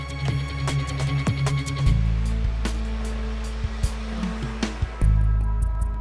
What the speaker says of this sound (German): Befüllen Sie die Luftfeder nach den Vorgaben des Fahrzeugherstellers.